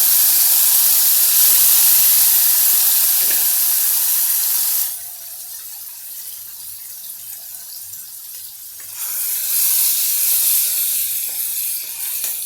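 Garlic, ginger, onion and tomato paste sizzles in hot oil with a loud, steady hiss that drops off for a few seconds and then surges again, with no talking.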